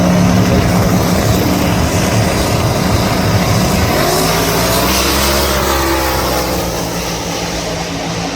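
A New Edge Mustang drag racing at US131 Motorsports Park: heavy, loud engine roar that drops in pitch and changes character partway through, then continues as a steady drone without talk.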